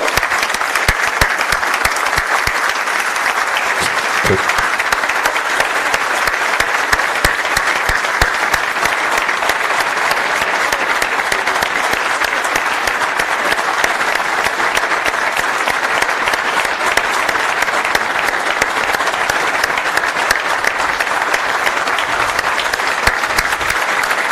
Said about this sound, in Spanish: Yo les voy a pedir un aplauso y por favor ponernos de pie para recibir al mago de Alta Gracia, el señor Oreste Berta